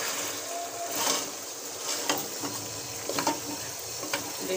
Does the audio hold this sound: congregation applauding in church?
no